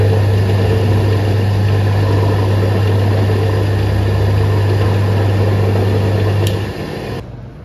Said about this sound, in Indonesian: hidupkan mesin bor. Biarkan berjalan sebentar tanpa beban